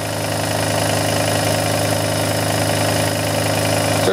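A Kromrey generator runs steadily at about 1560 RPM with a loud, continuous mechanical hum and whir, humming evenly with no pauses.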